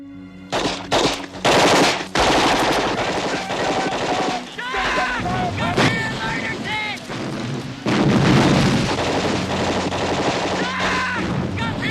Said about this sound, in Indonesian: tiba-tiba nyaring terdengar tembakan dari arah depan